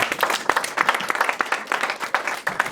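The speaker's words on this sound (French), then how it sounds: "Est-ce qu'on peut acclamer très fort le Seigneur?" Church congregation applauding and cheering loudly, dense steady clapping with scattered shouts throughout, no clear speech over it.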